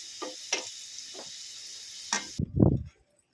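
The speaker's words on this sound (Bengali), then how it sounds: "কচুগুলো ভেজে নেব এটাকেও হালকা করে ভেজে নেব" Brief sizzle of taro frying in a pan, with a few stirring scrapes before a louder burst of crackling near the end.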